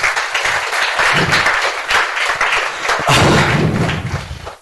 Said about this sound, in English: Can you just give him applause, please?